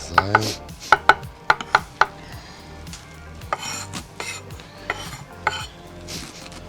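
Sharp knife strikes chop garlic and herbs rapidly on a cutting board in quick bursts, with scraping and clinking of kitchen utensils between.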